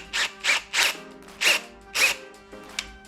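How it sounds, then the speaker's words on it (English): A power drill spinning a piece of hose whirs in short bursts, about six quick spin-ups each lasting a fraction of a second, close and fairly loud with brief pauses between. "Put a piece of hose in your drill."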